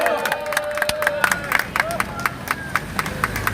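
Outdoor crowd at a Korean church rally cheering and clapping in welcome, loud scattered hand claps mixed with whoops and raised voices throughout.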